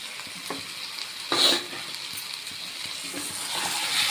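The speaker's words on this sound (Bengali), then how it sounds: "নেড়ে দিয়ে দিচ্ছি" Chicken pieces frying in a pan are stirred, with a steady sizzle broken by a few scraping strokes and one louder stir midway, close up and with no voices.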